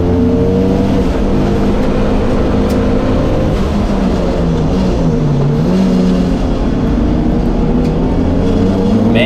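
GT3 and GT4 race cars circulating on a track, a sustained loud roar of engines with shifting pitch as cars pass and accelerate, no voices.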